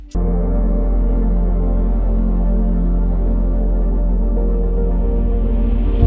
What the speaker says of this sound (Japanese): これはね、どっちかっていうと、こ う、重たいキック音を足している感じですね。